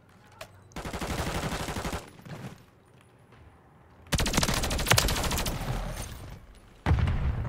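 Rapid turret gunfire in a video game, loud automatic bursts with clearly spaced rounds in two long volleys and a third starting at the end, separated by brief quiet gaps.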